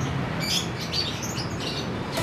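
Small canary chirps repeat in quick, high bursts over a steady background hiss, fairly faint and close.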